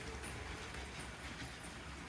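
A six-car LEGO Maersk train runs smoothly on a toy layout track, giving a faint, steady rolling rumble with light continuous clatter and no voices.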